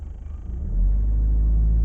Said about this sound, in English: if I blip the throttle, I get like a sticking point at like 1500 there